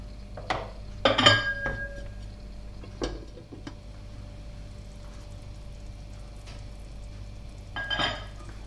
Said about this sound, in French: je vais mettre le couvercle et on va laisser cuire